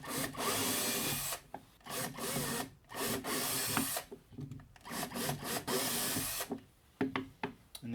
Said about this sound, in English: Let's change the drill bit and put the rivet drill bit in.